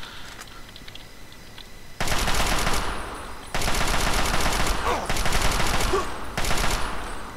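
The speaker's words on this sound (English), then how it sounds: "Chinese assault rifle." Bursts of Chinese assault rifle fire from the Fallout 3 video game, loud and sustained automatic rattles in several long volleys with brief gaps between them, preceded by quieter game ambience.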